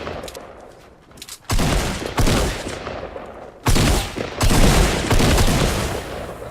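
Suppressed submachine gun fire in a video game comes in two sustained, loud bursts of rapid muffled shots, separated by a brief lull, with faint game ambience before the first burst.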